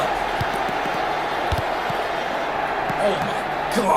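A video game football stadium crowd roars in a steady, dense wash of cheering and murmur, with scattered thumps on top, continuing without a break.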